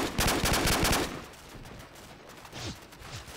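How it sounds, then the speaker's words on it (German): A rapid machine-gun burst in Call of Duty 4: Modern Warfare, about a second of fast evenly spaced loud shots, then fading rumble and faint distant noises. "Wir schießen hier."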